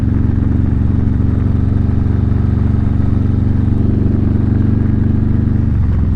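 Motorcycle cruising on cold rural Tennessee backroads, with a steady, loud low engine drone and constant wind rush, no voices.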